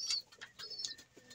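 Pigeons give soft, close coos and murmurs in quick overlapping bursts, with faint higher chirps in a quiet setting.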